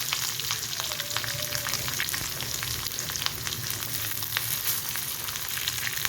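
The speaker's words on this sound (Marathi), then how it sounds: "कढीपत्ता मिरच्या लसूण घालायचं आहे" Curry leaves, green chillies and garlic spitting in hot oil with mustard seeds and cumin, a dense, continuous close crackle and sizzle with rapid pops throughout, no voices.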